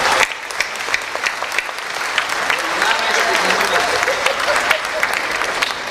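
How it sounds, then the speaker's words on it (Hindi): A crowd claps for the prime minister at a comedy show, steady dense applause throughout with scattered sharp individual claps and a faint murmur of voices underneath. "तो एक बार हमारे प्रधानमंत्री के लिए तालियां बजाते हैं।"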